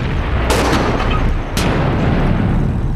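Tank guns and artillery firing in a wartime battle, two sharp booming blasts over a dense, roaring rumble of battlefield noise.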